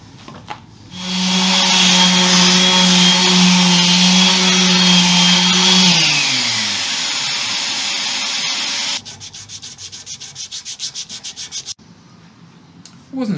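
A power sander drones loudly and steadily against a wooden guitar body for several seconds, then winds down into a rougher, rhythmic scraping buzz, close by.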